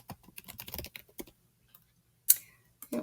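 Short bursts of typing on a computer keyboard, entering a folder name in Google Drive, with quick clustered keystrokes, a pause, then a few sharper clicks close up.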